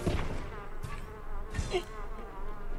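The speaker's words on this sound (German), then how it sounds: "Oh, hier sind Bienen." Bees buzz in a steady, close drone with a few louder swells in Ghost of Tsushima, a samurai action video game.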